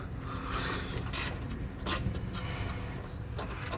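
A ratcheting wrench clicks while loosening a V-band clamp on an LML Duramax intercooler pipe, a few short bursts of close metallic ratchet clicks, with no talk.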